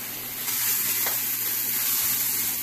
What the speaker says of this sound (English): We're going to take our squirrel and get it to where it's starting to sear pretty good. This is a very hot skillet and the olive oil.